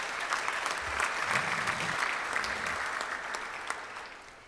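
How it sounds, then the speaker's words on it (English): Steady round of applause from members at a Rotary club meeting, a continuous even patter of many hands clapping at moderate distance, fairly soft and without talk. "Let's give them a round of applause."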